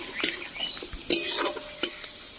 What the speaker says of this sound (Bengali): পেঁয়াজ, তাকে এইভাবে আমি লাল করে নেবো,